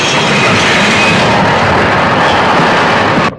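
A train runs loudly on rails in a movie action scene, a dense continuous roar of wheels and carriages with clattering texture that cuts off abruptly at the end.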